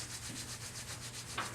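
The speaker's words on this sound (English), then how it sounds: "Rub your palms together," Palms rubbed briskly together to build heat during a yoga breathing practice, a close, dry, continuous swishing friction with a rhythmic back-and-forth pulse, heard alone without talk.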